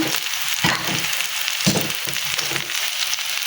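Steady oil sizzling of frying tulingan fish fills the clip, with a couple of louder crackling surges as the fish is moved in the pan.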